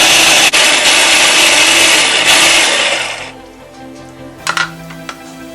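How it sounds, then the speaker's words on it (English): A blender purees jalapeno, avocado, cilantro, lime juice and water in a loud, steady whir that runs about three seconds and then cuts off, leaving faint clinks and rattles. "and puree until it's a nice frothy paste."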